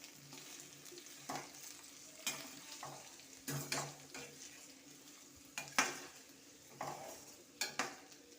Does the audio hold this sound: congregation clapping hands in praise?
no